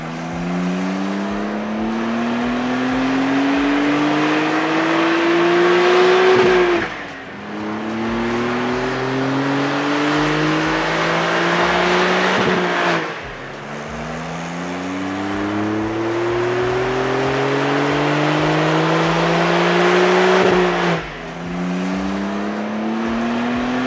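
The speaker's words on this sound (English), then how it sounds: "We'll get this on the dyno later on today and then see what happens." A tuned Porsche 911 992 Carrera S on a dyno, engine roaring loud and close through repeated rising pulls: three full sweeps, each climbing steadily before a sharp drop, then a fourth beginning, with no talking.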